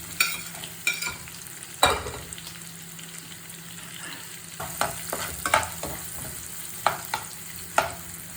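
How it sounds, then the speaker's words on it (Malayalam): Onion and capsicum sizzle softly in a pan for chilli chicken, with a steady low frying hiss and occasional clinks and scrapes as a spoon stirs the vegetables. "പച്ചമുളക് ഒന്ന് വഴണ്ടി വരുമ്പോൾ നമുക്ക് കാപ്സിക്കം സവാള ഇട്ട് കൊടുക്കാം."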